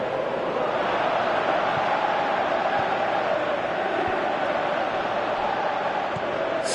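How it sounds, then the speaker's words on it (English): A video game football crowd roars steadily as fans call for a shot, a broad constant wash of massed voices at even loudness with no clear breaks. "Crowd calling for him to shoot."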